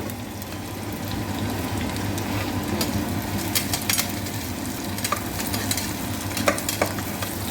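Vegetables fry in a pan under a continuous sizzle while a spoon scrapes and stirs with uneven clicks and clatter. The stirring grows busier toward the end, with no voices.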